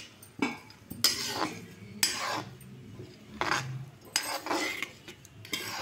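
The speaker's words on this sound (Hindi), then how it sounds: "अब घी गर्म हो गया है, उसमें डाल देंगे हम काजू और बादाम।" Finely chopped cashews and almonds roast in hot ghee in a kadhai for besan dry fruit laddu, with repeated metal spoon scrapes and clinks against the pan at a steady rhythm and no talking.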